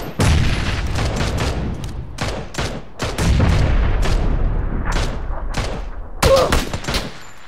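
Grenade blast and rapid gunfire in the battle-royale shooter PUBG: loud, dense bursts of shots and explosions rolling through most of the stretch, with a sharp burst near the end.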